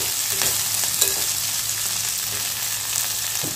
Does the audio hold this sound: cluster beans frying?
yes